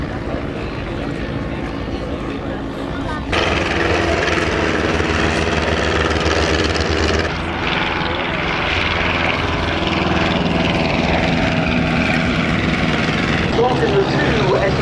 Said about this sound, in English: The improved SE5As were built, most of them not by the Royal Aircraft Factory itself, but by Austin Motors and Vickers.